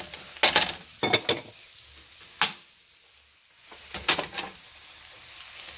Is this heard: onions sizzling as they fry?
yes